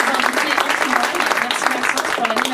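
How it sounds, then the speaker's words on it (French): An audience at a French conference day on housing access claps in sustained, dense applause, loud and even throughout, with a voice speaking faintly over it. "Je pense qu'on peut l'applaudir parce qu'il y a eu beaucoup d'énergie pour cette journée."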